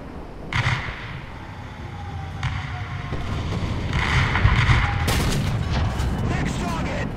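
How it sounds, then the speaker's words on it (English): Distant booms of artillery fire in a War Thunder tank battle, likely M46 or Walker Bulldog, with a few sharp blasts over a steady rumble of wind and engine noise and brief game radio voices. "artillery fire!"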